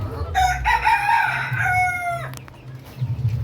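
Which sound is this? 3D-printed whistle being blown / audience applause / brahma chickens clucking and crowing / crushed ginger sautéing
brahma chickens clucking and crowing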